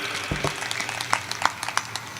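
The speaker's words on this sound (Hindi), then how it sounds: "एक बार इन छोटे छोटे बच्चों के लिए तालियां बजा के इनका अभिनंदन जरूर कर दें" An audience gives sparse, scattered applause for small children at a public speech in Bhinmal, Rajasthan, with a few individual claps standing out. The claps are fairly faint and come in a loose, uneven rhythm with no talking over them.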